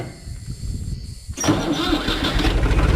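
A Türk Fiat 480 single-gear tractor engine cranks and catches after a moment of quiet rumble, then runs loudly and steadily up close, a rough idling roar with a slightly unusual exhaust note.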